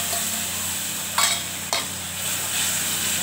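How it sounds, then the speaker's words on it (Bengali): Fish and a paste of ground cumin, chili and ginger with salt and turmeric fry in a pan, a steady sizzle broken by two sharp scraping stirs, with no talking. "ভালো করে কষিয়ে নেবো মাছের ঝোলটা।"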